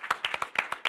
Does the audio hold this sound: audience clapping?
yes